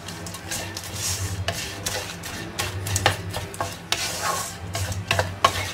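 Anchovies, ikan bilis, being stirred into lime sambal in a pan off the heat, giving a steady scraping and rubbing rhythm with soft clatters of the spoon, close up and moderately loud, without talk.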